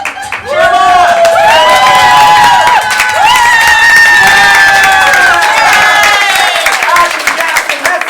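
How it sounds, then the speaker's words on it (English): A game show studio audience erupts in loud, close cheering and clapping, with shouts and whoops from adults and children that rise, dip briefly, and keep going. "Cheer 'em on!"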